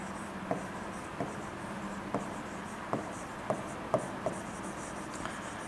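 Marker or chalk strokes writing the word magnesium on a lecture board, a steady series of short scratchy taps and squeaks repeating about every half second, close and clear over faint room hum with no talking.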